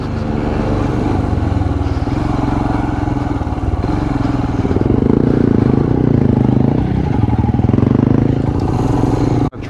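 A Royal Enfield Himalayan motorcycle ridden on an off-road trail, its single-cylinder engine loud and close throughout with steady droning revs, a rise in throttle partway through and clattering from the rough ground.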